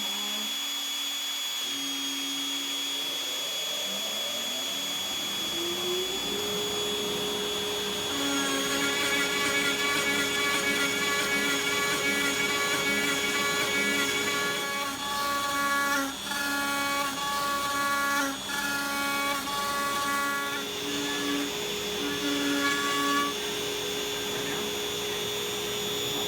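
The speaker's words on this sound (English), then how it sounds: "Turning the vacuum on." A shop vacuum runs steadily throughout, loud and continuous, as it pulls dust through a CNC spindle dust boot during a second test with the spindle running; a whining motor tone with rising harmonics sets in after a few seconds.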